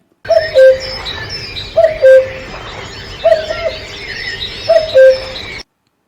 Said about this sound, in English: Cuckoos cuckoo.